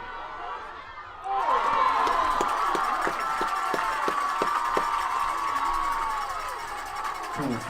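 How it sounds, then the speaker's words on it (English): A crowd at a high school varsity football game breaks into loud, sustained applause and cheering that swells suddenly and holds steady, with scattered sharp claps standing out in the roar. "if you can hear the applause as we come back in"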